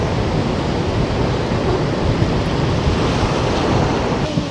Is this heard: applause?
no